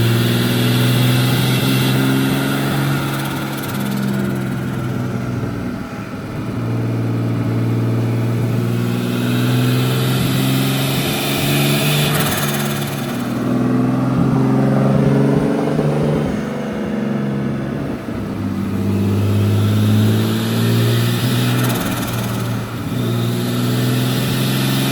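A turbocharged BMW E36 323 strains on a dyno, its engine droning loud and continuous with rising and falling revs in long sweeping pulls, no voices over it.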